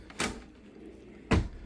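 Countertop extension in an RV kitchen of a 2026 Pasadena SV 38FX being pushed in, giving two short solid knocks, a lighter one early and a heavier thud near the end, close up and with no talking.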